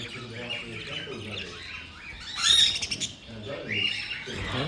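An Amazon parrot squawks sharply in a bird shop, with short loud calls and chirps among other birds while people talk nearby.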